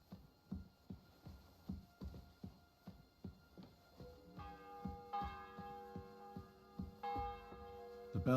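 A church bell tolls in Kingdom Come: Deliverance II, a steady series of evenly spaced strikes that build into a sustained, ringing metallic hum, moderately distant and without speech.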